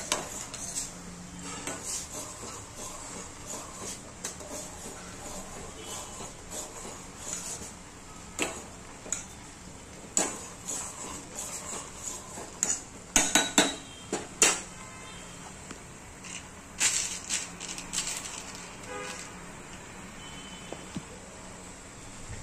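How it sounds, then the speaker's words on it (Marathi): Maggi noodles are stirred in a pan, giving a long run of faint, irregular scraping and light metallic clinks of the spoon against the pan, with a few louder knocks clustered partway through. "आणि आता हे असं हलवायचं जेणेकरून त्याच्या गुठळ्या नाही व्हायला पाहिजे"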